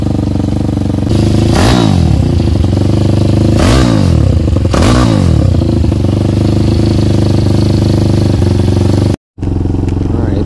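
A motorcycle fitted with new Ohlins replica adjustable suspension, ridden in the dark, gives a loud close engine drone with three rising-and-falling revs and some clatter over bumps, ending in a brief dropout.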